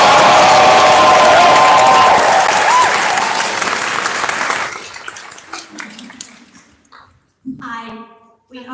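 Audience applauding and cheering at a Beltane Fire Festival open meeting, a loud sustained wash of clapping that fades out over several seconds, followed by people speaking.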